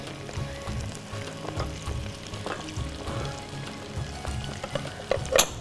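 Chicken pieces frying in hot oil on a TV cooking show, a steady sizzle and crackle with occasional bubbling bursts, moderately loud and continuous with no talk over it.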